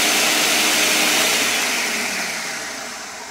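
A kitchen blender whirring loudly as it blends lime juice, a dense steady motor whine that slowly fades toward the end, with no talking.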